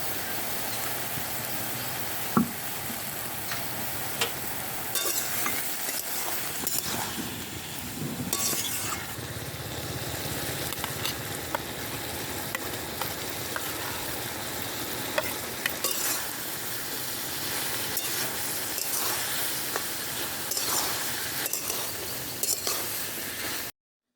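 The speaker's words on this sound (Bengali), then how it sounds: "এবার এই সবজির মধ্যে আমরা পরিমাণ অনুযায়ী লবণ, হলুদ ও বেটে রাখা মশলাগুলো দিয়ে দেব।" Vegetables with salt, turmeric and ground spices sizzle steadily in a pan while being stirred, with a continuous close frying hiss and occasional clinks of the spoon against the pan.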